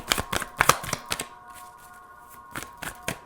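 Cards shuffled and drawn for a tarot-style reading, a few sharp close snaps and flicks in short clusters separated by a quiet pause, with no voice.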